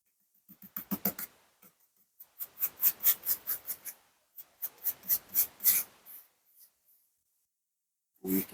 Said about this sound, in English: So we're going to spread the cards out